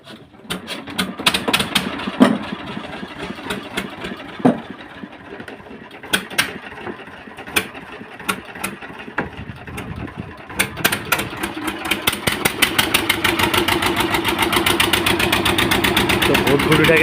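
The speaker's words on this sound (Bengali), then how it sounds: "ইঞ্জিনটাকে স্টার্ট দিচ্ছে দেখুন দাদা ভাই" A river ferry boat's engine on the Satjelia river being started and running, with sharp mechanical clacks and bursts at first, then settling into a steady rapid chugging rhythm that grows louder toward the end.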